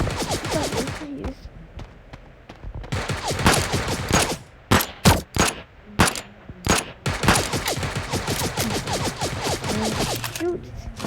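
A minigun fires in the Sausage Man video game, with long, loud bursts of rapid shots broken by brief pauses and a few heavy single blasts, while voices talk over the gunfire.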